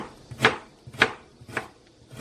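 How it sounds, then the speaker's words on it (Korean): A knife chops through peeled carrot on a cutting board, cutting it into thin julienne strips: four crisp, close knocks spaced about half a second apart, with no voices. "이렇게 채를 썰어 줍니다."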